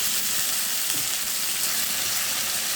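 Shing fish and tomato sizzle in a hot pan after a splash of water goes in, a steady, fairly soft hiss and crackle of frying that runs without a break, with no voices.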